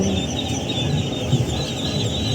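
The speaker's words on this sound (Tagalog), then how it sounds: "Nakadaga itik sa sulod sa sakyanan." Ducks carried inside a vehicle on the way to a duck farm in Tamugan, Davao City, quacking and clucking steadily over a continuous engine and road rumble, close and fairly loud throughout.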